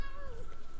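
Domestic cat giving a single short meow, close and clear over a low background hum.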